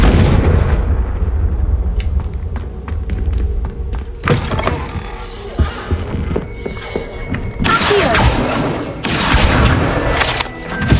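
A Confringo fire spell cast in the Hogwarts Legacy video game, with a series of loud booming blasts and thuds, bursts of crackling fire and sharp impacts arriving in clusters over a dense, busy game background.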